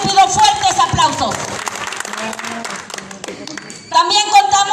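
Strong applause for Emigdio Valdivia Barragán of the communal lands commission at a swearing-in ceremony in San Andrés Huaxpaltepec, Oaxaca; clapping sits beneath amplified talk and music, with a crowd murmuring throughout.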